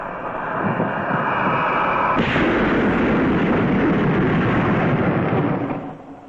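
Lockheed Super Constellation aircraft noise swells after a quiet stretch, a dense loud roar that builds in and holds steady before easing off at the end.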